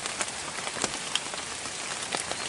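Rain patters steadily on a surface in foggy weather, a dense, close hiss of drops with scattered louder single splats, and no voices.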